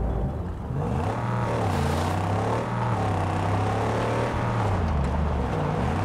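A humble buggy in the Mad Max video game revs loudly and pulls away, its engine note climbing and shifting in steady, continuous drone with no voices over it.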